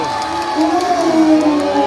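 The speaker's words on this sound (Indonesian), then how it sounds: "Boleh minta tepuk tangan yang meriah." An audience at Sea World Ancol cheers and whoops during a brief shark presentation, a short burst of crowd noise with voices rising together.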